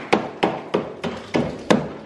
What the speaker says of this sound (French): Un bon coup de marteau là-dedans